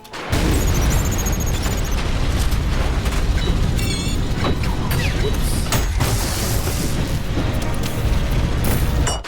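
Rocket launcher explosions blast repeatedly in the fast shooter ULTRAKILL, loud booms and crashes layered over constant gunfire, metallic clanks and chaotic combat noise throughout.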